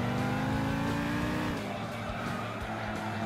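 DTM touring cars and rally cars race in Gran Turismo 6, engines droning loudly as one car's tone drops while passing, with tyre noise over a steady motor roar.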